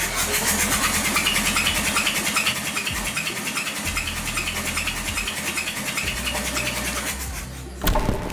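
A car engine holding near idle at about 800 RPM in roughly 22 °C weather during a start-stop system test, a loud steady mechanical drone throughout that shifts briefly near the end.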